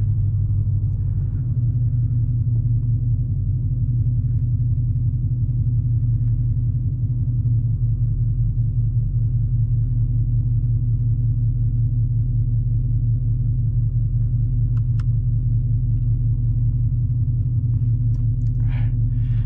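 A 2018 Dodge Challenger ScatPack with a 6.4 L V8 and BBK long tube headers idles with a steady, deep exhaust rumble, close and continuous throughout, with a couple of faint clicks near the end.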